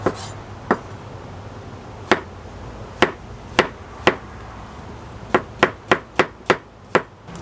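A knife cuts half a cucumber on a cutting board while steak wraps are prepared. Sharp, close chops come in a few spaced strikes, then turn into a faster run of cuts near the end.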